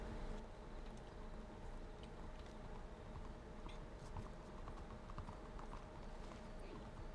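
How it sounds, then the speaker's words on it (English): Horse hooves clip-clop in the Red Dead Redemption video game, several horses moving at once as a steady faint patter under a low background hum. "Why is there all these horses here?"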